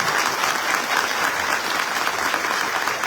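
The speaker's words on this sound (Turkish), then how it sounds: "Kocaman bir alkış öğretmenim." Loud, dense applause fills a political party advisory board meeting, a continuous crowd of hands clapping close by without pause.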